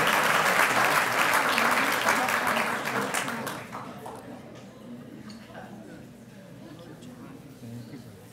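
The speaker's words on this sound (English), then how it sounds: "Applause." Audience applause at an awards event, a dense burst of clapping that rings out loudly for about three seconds, then fades and thins into scattered claps and quiet room noise.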